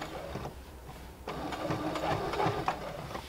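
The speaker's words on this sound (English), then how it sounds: "So I'm going to keep stitching slowly until I get about a 1/4 inch away." A sewing machine stitching quilt binding runs slowly up close, a steady mechanical whir with a rhythmic needle clatter that briefly pauses and resumes, with no talking.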